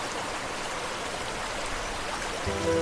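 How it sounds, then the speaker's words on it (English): A stream flowing beneath a broken wooden bridge after rain, a steady broadband rush of water that is continuous and moderately close, with no voices. "while the water below flows stronger than ever."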